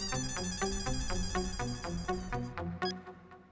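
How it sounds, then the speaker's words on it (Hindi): A phone ringtone plays on an outgoing call, a repeating melodic ring heard clearly and steadily before stopping near the end. "मैं फिर से फोन लगाता हूँ"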